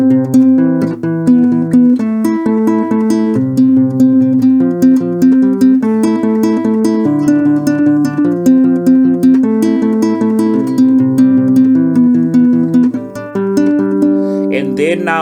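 A guitar plays a Zimbabwean mbira-style chord pattern, a steady looping cycle of plucked, interlocking notes with a bright, ringing tone, played close and continuous without talk.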